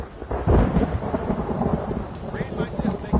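Loud thunder rumbles over steady heavy rain in a Red Dead video game storm, with a big crack of thunder near the start and continuous downpour throughout.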